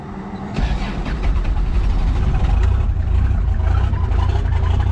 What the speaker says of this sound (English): It is running on some waste oil and hydraulic fluid and regular unleaded gas from the junkyard